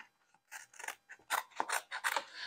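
Scissors snip through a self-adhesive stencil sheet in a quick series of crisp, close cuts separated by short pauses, quiet and without speech.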